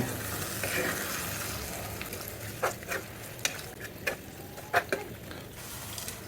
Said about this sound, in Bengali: এবার ভালো করে নেড়ে নিচ্ছি।